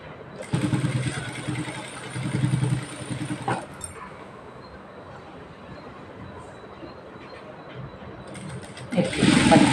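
A sewing machine stitches invisible piping onto a blouse in two close, whirring runs, the first lasting a few seconds, then a quiet pause before the motor speeds up again.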